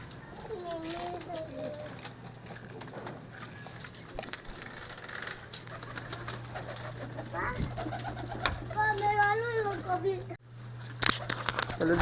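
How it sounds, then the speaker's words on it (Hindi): Pigeons eating scattered grain feed, with soft cooing and fluttery bird calls throughout, children's voices chattering in the background and a steady low hum, plus a few sharp knocks near the end. "हमने इन्हें दाना डाल दिया है और सब अपने अपने दाने पे शहीद हो चुके हैं, स्टार्ट हो चुके हैं।"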